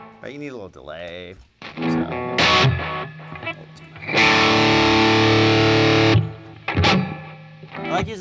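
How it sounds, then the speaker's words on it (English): Electric guitar played through an overdriven amp with a barely audible delay adding thickness, bursts of distorted chords and a long sustained held chord, with someone talking in between the phrases. "I like using delay where it's just barely audible, but just kind of fattens it up a little bit"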